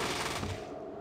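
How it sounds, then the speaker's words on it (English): Fallout 2 burst fire: a rapid, loud volley of gunshots fired in one quick string, lasting about a second. "burst fire again"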